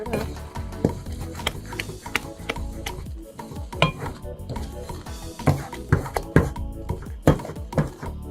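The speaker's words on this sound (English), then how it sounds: "Stir that up." A spoon stirs pepper into jute leaf (ewedu) vegetable soup in a pot, producing repeated scraping clinks and taps against the pot in an irregular rhythm, fairly close and steady over background hum.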